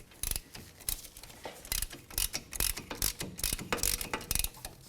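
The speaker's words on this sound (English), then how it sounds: "we'll use our 17 millimeter and our ratchet to break them loose" A ratchet with a 17 mm socket works loose the wheel hub bolts on a 2005–2016 Toyota RAV4, giving a rapid, close run of clicking pawl bursts in irregular rhythm.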